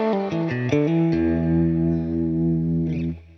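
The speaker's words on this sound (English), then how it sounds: "if I turn this high pass all the way up, it's going to take all the bottom end out of the reverb up to 800 Hertz" Electric guitar plays a few quick notes then a sustained chord through a reverb pedal with its high-pass filter turned fully up, thin bright wash trailing off, loud and alone.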